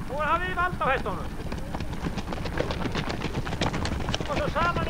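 Horses trot with a steady clip-clop of hooves during a riding lesson, their even rhythm carrying through wind noise while people talk over it.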